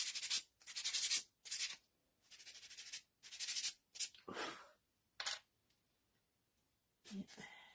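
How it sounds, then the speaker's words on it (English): Hand sanding of a handmade Easter bunny decoration, heard as short scratchy bursts of rubbing repeated in an uneven rhythm, close and clear, separated by quiet gaps. "I try to do the sanding work before I come on, but I didn't."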